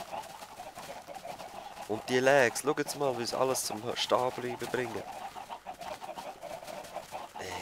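Clucking and cooing chickens in a video game, a busy run of bird calls in the middle stretch, heard under and between someone talking over them.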